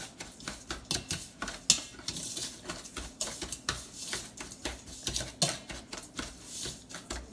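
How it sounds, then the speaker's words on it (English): A whisk breaks up white and light brown sugar in a bowl, producing quick, irregular clinks and scraping taps against the bowl in a busy, close rhythm. "Break that up with your whisk"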